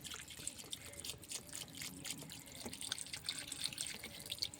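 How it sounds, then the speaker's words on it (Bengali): Water being poured into a pot of spiced mutton for a kosha curry, a soft, continuous trickling and splashing with faint irregular dribbles, quiet and close. "এই যে পানি দিয়ে দিলাম,"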